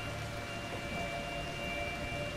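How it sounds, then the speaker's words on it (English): Steady, even rain in the game Outlast 2, a soft continuous hiss with faint tonal hums running underneath and no voices. "I don't know whether this is just normal rain or blood"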